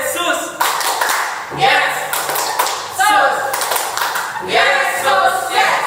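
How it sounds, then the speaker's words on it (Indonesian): Children at a Sunday school service clap their hands in rhythmic bursts, tapping patterns separated by short pauses, with voices chanting and speaking between and over the claps. "Tepuk tangan Yesus"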